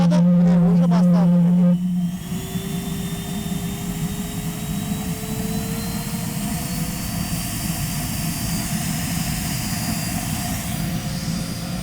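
A waste-oil burner heat cannon roars steadily and loudly after ignition, a brief louder hum at the start giving way to a continuous broadband burner roar with a slowly rising whine.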